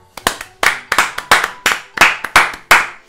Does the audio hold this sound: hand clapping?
yes